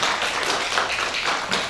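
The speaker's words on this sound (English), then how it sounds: "Clap for him." Audience clapping for a Vice Chancellor at a live-streamed panel event: dense, continuous applause from a crowded room, even and fairly loud throughout the brief stretch.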